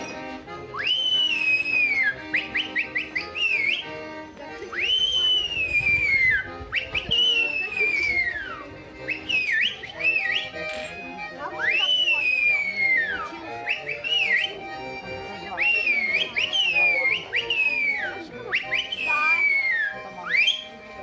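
A loud, close whistle imitates Cossacks whistling as they spin lances to frighten the enemy. It repeats in sharp piercing rising-and-falling bursts in quick succession, with faint background noise and no clear talking.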